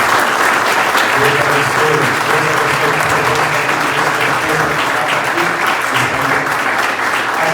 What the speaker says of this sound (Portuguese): vocês dessem um aplauso a Deus pela vida do pastor